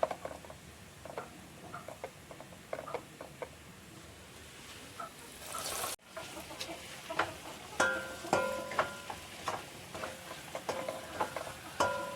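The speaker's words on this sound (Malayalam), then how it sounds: "ഓരോ കട്ട്ലറ്റ് മുട്ടയിൽ മുക്കി റൊട്ടിപ്പൊടിയിൽ മുക്കിയിട്ട് എണ്ണയിലിട്ട് കൊടുക്കാം" Breaded chicken cutlets, dipped in egg and breadcrumbs, fry in hot oil for a Ramadan-special recipe, giving a steady soft sizzle with scattered crackles and light clinks of utensils nearby.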